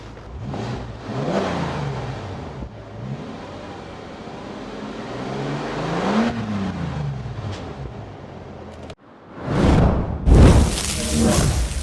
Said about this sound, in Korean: 근데 머플러 소리 하나는 진짜 죽입니다 한번, 한번 들려드릴게요